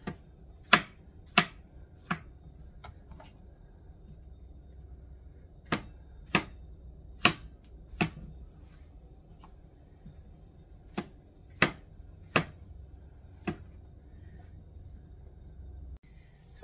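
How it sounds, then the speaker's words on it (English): Knife chopping tomatoes on a cutting board: sharp, distinct single chops in loose clusters, close and clear over a quiet kitchen background, with pauses between bursts. "So then let's chop up some tomatoes."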